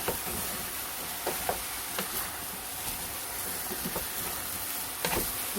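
Vegetables for an onion curry stir-frying in a pan, a steady soft sizzle with faint stirring scrapes and light clicks of a utensil at a few points, no talking.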